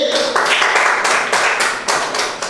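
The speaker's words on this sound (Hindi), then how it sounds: "ताली हो जाए अमित के लिए" An audience claps in applause, a dense run of overlapping hand claps with irregular bursts and a few louder surges, fairly close and sustained over a couple of seconds.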